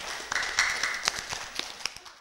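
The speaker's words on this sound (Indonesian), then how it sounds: "dan tepuk tangan dulu untuk Kang Yanto Oce." A small audience at a Tasikmalaya mayoral candidates' debate gives brief applause, with a few distinct sharp claps standing out over a thin, fading patter.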